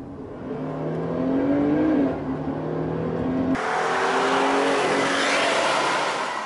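A 2016 Jeep Grand Cherokee 75th Anniversary accelerating hard in sport mode, heard from inside: engine note climbing in pitch, then a surge of broadband road and wind roar as speed builds, steady and fairly loud.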